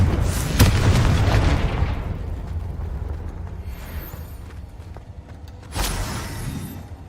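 Explosive Confringo spell blasts in Hogwarts Legacy go off as heavy booms. A big burst at the start trails into a rumbling decay, and a second sharp blast hits near the end.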